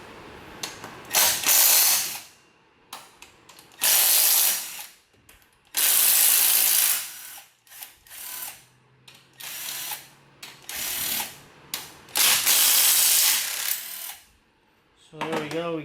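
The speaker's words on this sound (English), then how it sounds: "I'm gonna go ahead and unbolt the compressor from the mounts right here. You've got these 4 13mm bolts" A hand ratchet loosens 13mm bolts on the A/C compressor mounts of a Ford Ranger, clicking close and loud in repeated short bursts with pauses between strokes, and a brief voice at the end.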